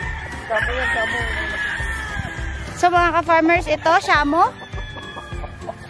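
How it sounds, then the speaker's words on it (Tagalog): Large Shamo breed chickens clucking and calling in bursts close by, with someone talking over and between the repeated calls. "Shamo yung breed nito. Malalaking manok."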